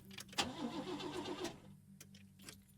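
A car in the video game Lorelei and the Laser Eyes cranks but fails to start, a short rough turning-over burst with a clunk, followed by quieter mechanical clicks over a low steady hum.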